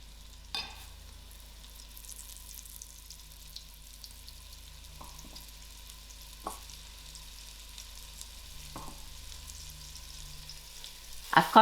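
Flour-coated ostrich meat frying in oil for a spicy goulash, a soft steady sizzle close by with occasional light knocks and clinks as pieces are added and stirred.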